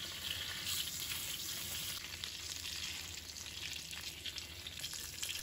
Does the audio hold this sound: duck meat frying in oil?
yes